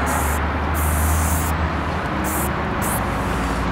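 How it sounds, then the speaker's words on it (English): A spray paint can hisses steadily while painting graffiti, in loud continuous bursts close up with brief pauses between strokes. "Look at the spray as you're painting."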